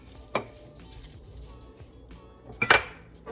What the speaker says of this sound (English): So next up, I have some peppercorns. I'm going to put maybe about a tablespoon or 2 in there.